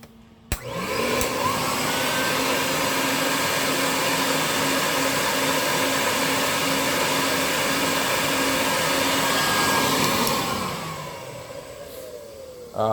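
A portable carpet extractor with two-stage 5.7-inch vacuum motors: a steady, loud vacuum motor whine spins up, holds for about ten seconds with a constant drone, then winds down.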